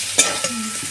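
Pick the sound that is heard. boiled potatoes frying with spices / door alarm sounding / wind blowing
boiled potatoes frying with spices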